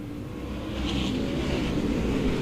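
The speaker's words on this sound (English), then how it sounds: "Feel the roar down the front straightaway." Race cars roar down the front straightaway at Star Speedway, a loud, steady, swelling engine drone that fills the air without a break, with no talking.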